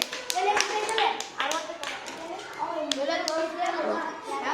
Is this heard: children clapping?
yes